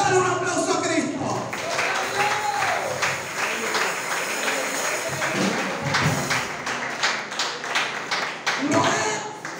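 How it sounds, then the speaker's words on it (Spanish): A church congregation claps for Christ during a Spanish-language sermon, a dense, sustained wash of applause from many hands filling the room, with voices mixed in throughout. "Dale un aplauso a Cristo."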